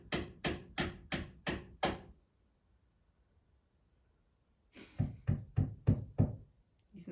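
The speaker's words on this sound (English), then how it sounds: "He's knocking." A neighbor knocking, two loud close series of about six sharp raps each, separated by a few seconds of near silence.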